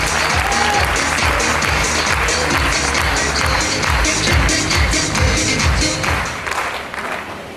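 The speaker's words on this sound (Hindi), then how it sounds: "आपकी जोरदार तालियों के बीच" A large audience at an achievers' award event gives loud, dense, sustained applause, close and continuous for over seven seconds before easing slightly at the end.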